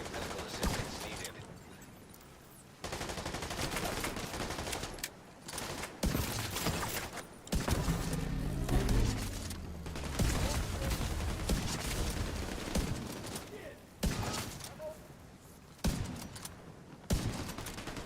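Gunfire in The Division 2 video game, heard as repeated bursts of shots broken by short gaps, fairly faint and spread across a long stretch of game action.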